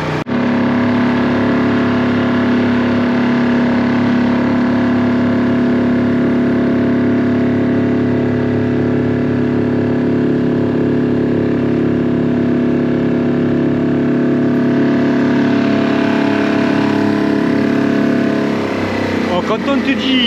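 A small 4 hp outboard motor drives an inflatable dinghy on open water, droning loud and steady with a constant engine hum throughout, while people talk over it.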